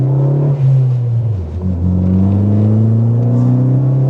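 A Ford Focus ST hot hatchback's engine and exhaust revving loudly nearby, the pitch dipping and then climbing in a smooth, throaty pull, with no voices.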